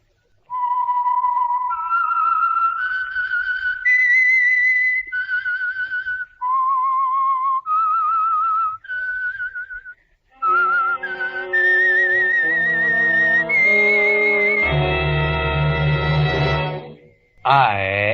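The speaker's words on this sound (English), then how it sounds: "the signal to listen for is this whistle" A lone whistled melody, the Whistler's signature radio show signal, rises and falls in clear sustained notes, then gives way to a loud orchestral swell that ends abruptly.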